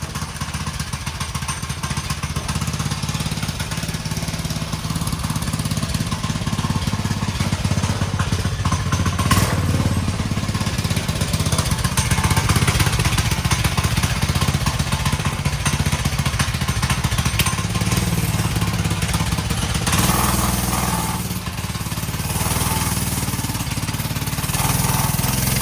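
A go kart powered by a motorcycle engine runs continuously on grass, a loud, rough, clattering engine drone that holds steady for about twenty seconds before dipping briefly and picking up again.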